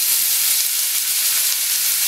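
Sliced onions in a generous pour of olive oil sizzle in a pan over medium-high heat, giving a steady, bright, close hiss that runs unbroken throughout, with no voices.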